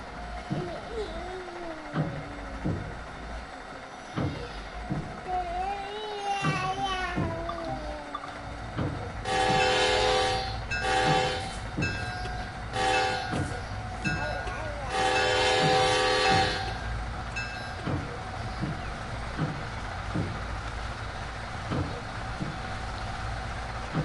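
An Amtrak train in the Train Sim World 2020 game runs through Secaucus Junction station in New Jersey, a steady rail rumble with rhythmic wheel clacks, a rising horn blast and bursts of loud clattering as it passes.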